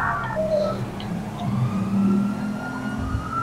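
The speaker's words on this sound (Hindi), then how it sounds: "कभी पुलिस वालों की आवाज" Police siren wails in the GTA 5 video game, a steady sweeping tone with traffic noise beneath it, fairly loud and continuous throughout with no talking.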